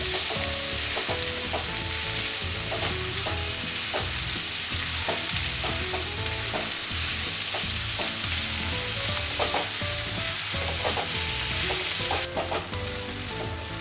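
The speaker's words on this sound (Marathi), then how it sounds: "कांदा छान भाजून घ्यायचा आपल्याला" Three onions fry in a pan for prawn masala, giving a dense, even sizzle with frequent stirring scrapes throughout, close and continuous with no voices.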